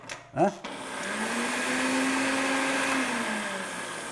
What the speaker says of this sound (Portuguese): É esse barulhinho, é esse liquidificador